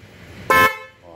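A single short, loud horn blast from a newly installed horn on a Nissan Almera, close by, cutting in abruptly over quiet background and stopping after a fraction of a second.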